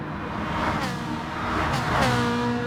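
Race car engine in Gran Turismo Sport screaming near the top of fifth gear, then dropping as it downshifts toward second, with a steady loud drone and shifting harmonic tones throughout.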